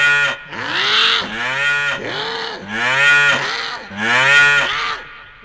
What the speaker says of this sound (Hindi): अब वो देखो गली में सांड आ रहा है।